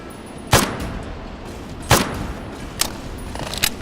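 Gunfire in the video game Fallout New Vegas, The Lonesome Road: four sharp, loud shots spaced about a second apart over a low steady background, with no talking.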